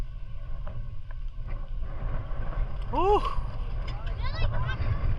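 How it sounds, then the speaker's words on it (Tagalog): Strong wind blows across open sea near a small fishing boat, a constant low rumble and buffeting against the microphone, with faint calls and brief tonal chirps over it. "kung naririnig nyo yung lakas ng hangin"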